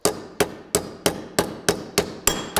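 A body hammer strikes sheet metal on a hard anvil with eight evenly spaced, sharp ringing blows, close and loud.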